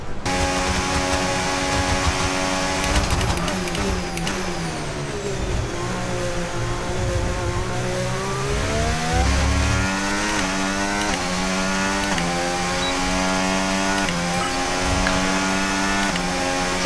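A Formula 1 race car engine from the F1 25 video game, on a qualifying lap, screams steadily and loudly throughout, its pitch rising and dipping through gear changes and corners with no talk over it.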